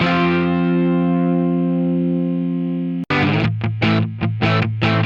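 A single electric guitar with a stereo widening effect holds a long sustained chord, then plays a short burst of rhythmic, choppy strums that cut in and out.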